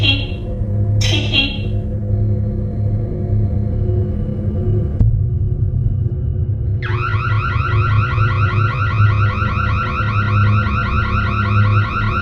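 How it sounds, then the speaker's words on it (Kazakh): A house alarm sets itself off, starting with a couple of short beeps over a constant low hum, then settling into a loud, continuous warbling electronic wail. "сразу үйдің сигнализациясы өзімен өзі қосылып кетеді"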